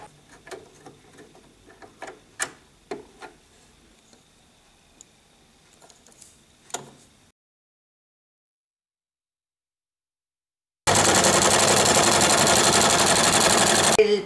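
A sewing machine with a double-feed walking foot presser foot stitches layers of fabric, giving soft ticking needle strikes for about seven seconds, then a gap of silence followed by a loud, dense burst of steady broadband noise.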